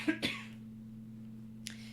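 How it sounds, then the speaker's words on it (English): Two quick coughs close to the microphone, followed by a steady low hum and a faint breathy sound. "I'm going to cough, hold on."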